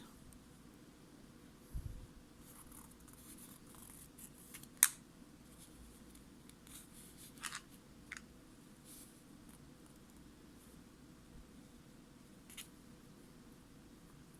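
Scissors cut yarn during button crocheting, with a few brief, faint snips spaced several seconds apart against a quiet room.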